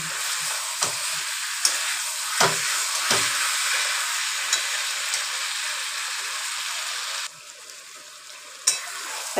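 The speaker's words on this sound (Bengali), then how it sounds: "উষ্ণ জল দেবো এর মধ্যে।" Chicken curry fries in oil as warm water goes in, giving a steady close hiss with a few scattered clicks and knocks, then a sudden quieter stretch near the end.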